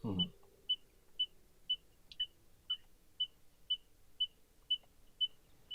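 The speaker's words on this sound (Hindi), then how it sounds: "अब वो क्रॉस हो गई तो वो बीप का भी साउंड बदल गया।" A car's reverse parking sensor beeps in short, high-pitched electronic tones at a steady, even pace while reversing slowly, fairly faint, with a soft thump at the start and quiet background.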